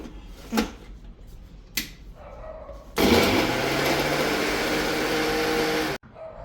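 A mixer grinder whirs loudly and steadily for about three seconds, grinding onion, mint, garlic, ginger and whole spices such as pepper, cinnamon and cloves, then stops abruptly. A few knocks and brief faint sounds come before it starts.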